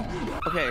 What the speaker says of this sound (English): That's the dog!